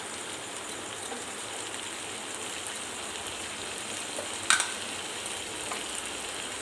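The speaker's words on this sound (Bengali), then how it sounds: "এবার আমি টমেটোর পেস্ট দিয়ে দিই।" Tomato paste hits browned onions frying in a pan for a chicken dish, giving a steady, even sizzle with one sharp click partway through.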